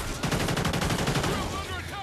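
Assault rifle fire, an AK-12, in the Call of Duty: Ghosts Extinction alien mode, sounds as a dense, steady burst of rapid shots that continues for most of the moment, with game effects mixed in.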